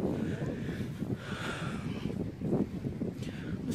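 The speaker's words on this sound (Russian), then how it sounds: "Ну, здесь, конечно, ветрено сегодня. Но море всегда ветрено." Wind buffets the microphone on a blustery Baltic seashore, a continuous rough low rumble with gusty swells, close and fairly loud throughout, with no talking.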